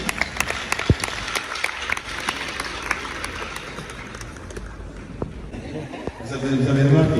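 An audience claps for guest Mr. Mbaye at the Nuit des Mandjacks 2023 cultural night. The scattered, uneven applause is mixed with talking voices and grows louder and fuller toward the end.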